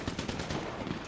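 Rapid automatic gunfire in Grand Theft Auto V, a quiet, fast burst of repeated shots lasting about a second, with no voices.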